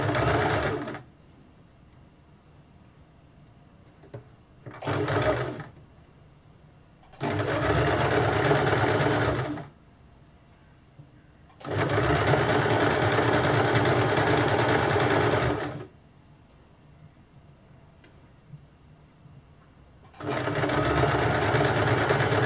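An electric sewing machine stitches blouse fabric in several bursts of steady, fast mechanical whirring, each lasting a few seconds, separated by quiet pauses, close and loud with no talk.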